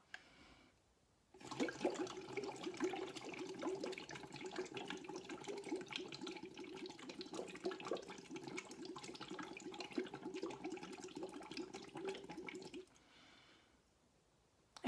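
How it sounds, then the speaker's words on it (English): Bubbles blown through a straw into a glass of water as a breathing exercise: a steady, close bubbling gurgle running about eleven seconds, then stopping, with no talking. "is to blow bubbles into that glass of water"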